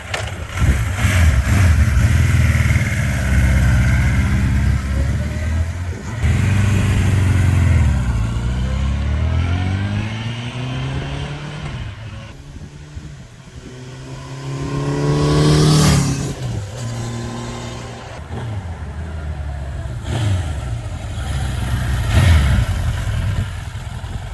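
A 1979 Suzuki GS1000 superbike passes close by more than once: the engine note rises and falls through gear changes, surging loud on each pass and fading between them, with no one talking.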